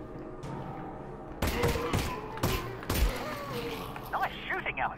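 Gunshots in the video game Half-Life: Alyx, a few loud, sharp individual bangs spaced apart, with some clatter and a voice near the end.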